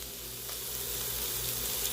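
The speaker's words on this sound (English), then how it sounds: "Hear it sizzle." Bacon-wrapped jalapeño poppers sizzle and fry in a pan, a steady close hissing crackle that holds at an even level throughout, with no talking.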